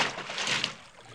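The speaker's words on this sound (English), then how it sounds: "there's another bigger splashing sound in the stream" A bigger splash in a sunny stream: a short broad burst of churned water that swells and fades within about a second, with no talk over it.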